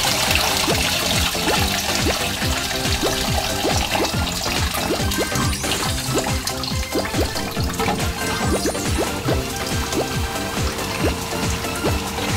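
Rain falls in a video game, heard as a steady watery patter and trickle throughout, close and continuous with dense droplet-like ticks and no speech.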